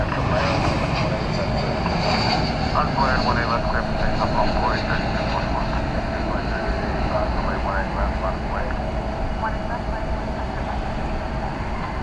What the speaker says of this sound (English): that was American Flight 2238 from Nashville, an Airbus A321